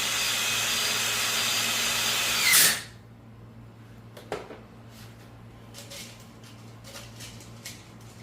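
A power drill whirs steadily for a couple of seconds, driving a screw into a small interconnector, then cuts off, leaving a quiet room with a few faint knocks and rustles.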